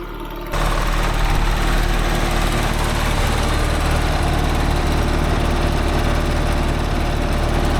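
An old Allis Chalmers HD5 dozer, recently revived after sitting overgrown, runs its engine loud and close, a steady throbbing rumble that kicks in sharply after a brief quieter start and holds constant throughout.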